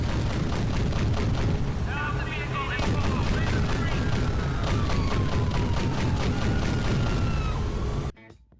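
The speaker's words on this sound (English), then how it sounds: "an APC tank with a newts livery, working lights, and most importantly, a sweet fast-firing cannon that ripped apart cars" A GTA APC tank fires its fast-firing cannon in rapid bursts of booming shots, with someone talking over the gunfire until it cuts off abruptly at the end.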